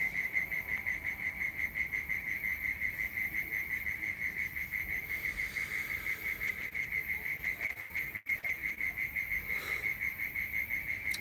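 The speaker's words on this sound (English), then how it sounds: "Are those crickets loud for you?" Crickets chirp loudly and continuously in a rapid, steady pulsing trill, filling the whole stretch evenly against a soft background hiss, with a brief dropout near the end.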